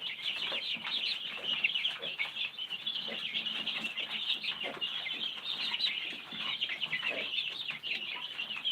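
Young chickens in a homestead brooder cluck and chirp continuously, a busy overlapping chatter of many birds heard close by with no talking.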